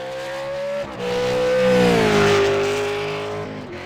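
A V8 Supercar engine revs up and holds a rising, droning note during Bathurst 1000 qualifying, loud and close and swelling as the car accelerates, with no voices.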